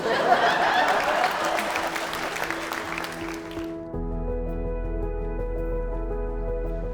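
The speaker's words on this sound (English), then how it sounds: "I just think I deserve a bit of a round of applause for making that particular dream come true" Wedding guests at Primrose Hill Farm give a round of applause, clapping with some light laughter that stops suddenly partway through and gives way to sustained music.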